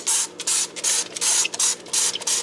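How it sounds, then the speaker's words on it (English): Repeated short bursts of a Dawn Powerwash spray bottle into an air fryer, about eight quick hissing pumps in a steady rhythm, close and loud. "So I have this Dawn Power Wash stuff. I just spray this"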